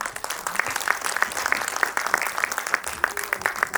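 An audience at a community get-together claps for the elders, a dense, sustained round of applause from many hands that fills the room from start to finish.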